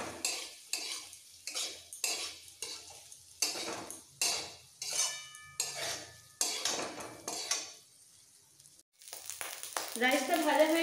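Cold plain rice stir-fried in a pan, with a spatula scraping and clinking against the metal in rhythmic bursts, quiet and close, followed by louder rustling.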